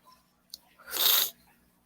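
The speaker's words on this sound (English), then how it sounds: "I keep sneezing and it's snotty." A single sharp sneeze bursts out about a second in, loud and close, preceded by a brief sniff and followed by quiet.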